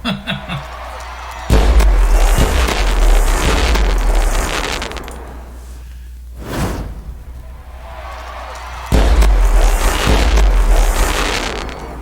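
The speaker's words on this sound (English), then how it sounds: "I wasn't going to sit through all the fireworks" Pack-opening fireworks animation in the baseball video game OOTP 23: loud synthetic booms and crackling bursts in two long waves, with a hissing rocket-like sweep between them, dense and continuous.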